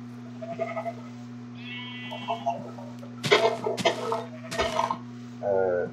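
Several short sheep bleats sound in sequence in Minecraft, close and clear, along with a clucking hen, over a steady low electronic hum.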